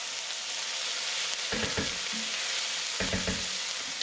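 Squid frying in a hot pan gives a steady low sizzle, broken by two short bursts of stirring and scraping as the pieces are tossed around.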